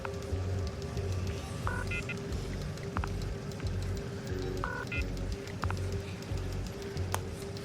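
Telephone dialing in the horror game The Coma 2: Vicious Sisters, a few short electronic keypad tones at intervals over a constant low background hum, with no talk.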